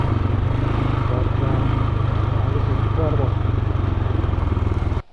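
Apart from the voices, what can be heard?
motorcycle engine running on a mountain road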